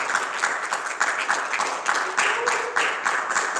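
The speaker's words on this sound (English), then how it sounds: "Let's do a little hand clap praise tonight." A church congregation at a Tuesday night Bible study claps in steady, rhythmic unison for praise, a dense run of hand claps filling the room at close range, with some voices mixed in beneath.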